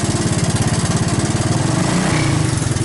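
A Honda ATC 200S three-wheeler's single-cylinder engine chugs loudly and close, its rapid pulsing beat quickening as the revs rise from idle.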